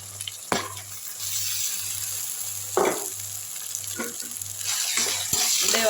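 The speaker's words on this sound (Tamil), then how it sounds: "நல்லா எண்ணெயிலே வதங்கட்டும்." Ground masala paste sautéing in oil in a pan, a continuous close sizzle broken by a few sharp clinks of a stirring spoon.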